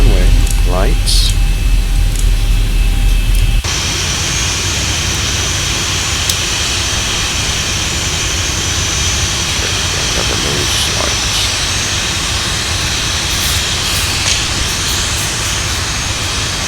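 Steady, loud jet engine hum of a Boeing 737-800 taxiing to the runway in the X-Plane 12 flight simulator, a continuous drone and hiss that shifts to a fuller, louder roar a few seconds in.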